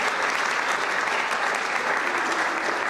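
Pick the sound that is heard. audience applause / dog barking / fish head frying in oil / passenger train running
audience applause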